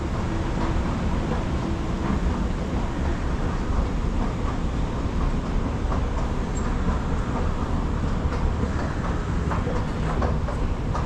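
A rail journey from Kuala Lumpur station toward KL Sentral, with a steady, loud interior rumble and faint rhythmic clatter of the carriage rolling along the track.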